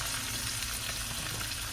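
Food stirred as it fries in a hot pan makes a low, even sizzle with faint scraping movement underneath, quiet and continuous with no speech.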